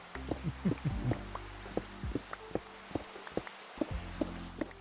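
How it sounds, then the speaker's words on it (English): Minecraft rain pattering in a steady soft wash, with scattered brighter drip ticks and low tonal game sounds layered underneath, fairly quiet throughout. "And rain."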